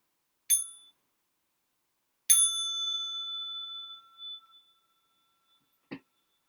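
A small meditation bell is struck twice, with a short ring and then a clear, long decaying tone that fades over about two seconds, followed by a brief soft knock; no talking, in a quiet room.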